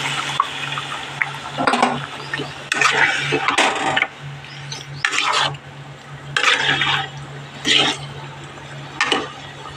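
Water being poured into a cooking pot after rinsing out a spice mixture, heard as repeated loud splashing and pouring bursts with short pauses between them.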